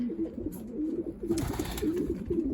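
Racing pigeons cooing close by, a run of low repeated throaty coos with a brief rustle partway through, steady and fairly loud without any talk.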